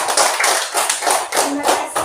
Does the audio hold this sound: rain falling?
no